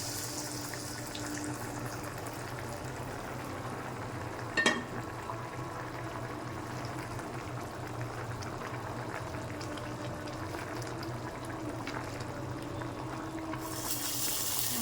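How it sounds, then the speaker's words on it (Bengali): Cumin seeds temper in hot oil for a crab and pumpkin curry, a steady low sizzle and fizz running throughout, with one sharp clatter near the middle and a brighter hiss rising at the end. "তেল পুড়ে জিরে দিয়ে দিলাম।"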